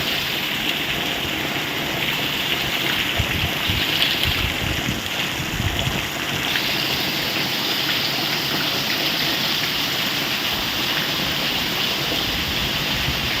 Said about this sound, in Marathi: मस्त पाऊस चालू झाला आहे आता